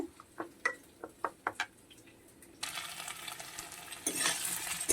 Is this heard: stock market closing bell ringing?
no